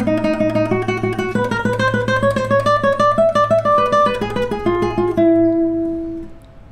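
Requinto-style note runs played on an acoustic guitar, a quick stream of plucked single notes over a ringing low bass note, ending on a sustained note, close and alone.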